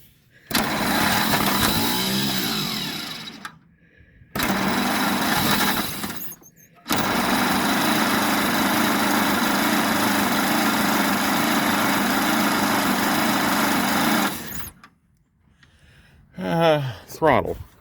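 A 1927 Pirsch fire truck engine cranks and runs in long loud bursts with brief gaps, ending after a sputter; people talk near the end.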